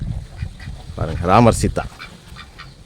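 Ducks in a pen holding Muscovy and Pekin breeds give a short burst of nasal quacking close by, with someone speaking in Tamil before and after.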